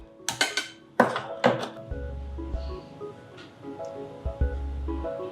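A kadai frying pan is set down on a kitchen stove while murukulu are being prepared. A few sharp metallic clanks and knocks come close together at first, followed by softer, sparse handling clatter.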